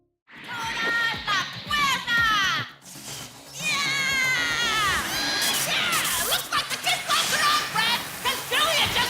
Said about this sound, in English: As the crowd cheer for Julia, her Thunder Pegasus only grows in strength